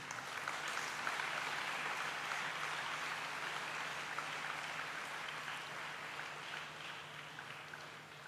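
Audience applause at a hospital anniversary celebration in Whitefield, a steady, fairly quiet wash of clapping that holds evenly throughout, heard from a distance with a faint low hum beneath.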